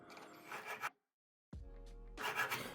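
Round sharpener filing a wood drill bit, a quiet close rasping rub in two short bursts separated by a brief silence.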